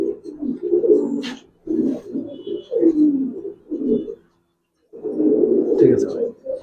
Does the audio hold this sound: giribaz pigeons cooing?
yes